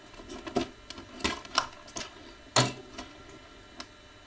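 Toy packaging being cut open by hand: a series of sharp, irregular clicks and snips, some louder than others, spread across a few seconds in a quiet room.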